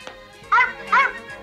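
A cartoon dog from an animated French series gives two sharp, close barks in quick succession, loud yips separated by a short pause.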